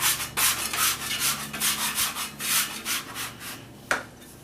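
A bench scraper slices through a maple pecan biscotti loaf with rapid, rhythmic rasping scrapes close up, ending with a single sharp tap.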